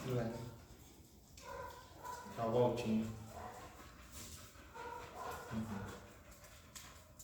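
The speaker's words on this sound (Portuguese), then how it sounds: "acabou de entrar um cachorro na aula" A dog wandering into a classroom makes soft whimpers and small yips at moderate distance, heard intermittently beneath a person talking.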